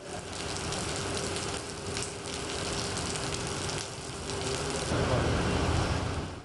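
Steady rain falling, a dense continuous patter on surfaces that holds level throughout and swells slightly toward the end, with no voices heard.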